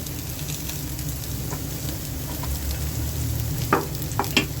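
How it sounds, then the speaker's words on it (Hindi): Onions go into hot oil and fry with a continuous close sizzle, a few sharper crackles and spatters near the end, heard alone without talk. "हमने ऑयल डाल दिया है, ऑयल हमारा गर्म हो चुका है। तो यहाँ पे हम सबसे पहले प्याज ऐड करेंगे"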